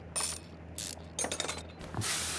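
Mechanical clinks and ratcheting from a virtual garage as an engine cylinder head is unbolted and pulled off, in bursts of short metallic tool noise with a faint low hum underneath.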